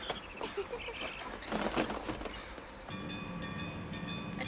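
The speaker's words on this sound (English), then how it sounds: "A train is coming." A train approaches in an anime scene, a rumbling rail noise building under faint ambience, then giving way to a steady ringing tone like a crossing signal.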